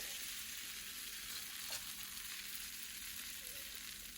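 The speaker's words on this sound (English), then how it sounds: "you have to keep stirring them to make them kind of separate" Hibachi-style noodles sizzle steadily in a hot pan while being stirred, a constant bright frying hiss with one brief scrape of the utensil midway.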